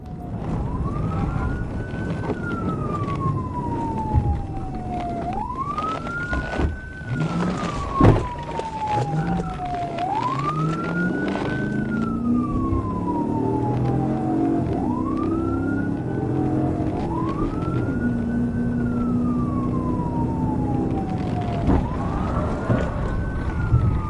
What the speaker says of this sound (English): Robbins activated his lights and sirens to initiate a traffic stop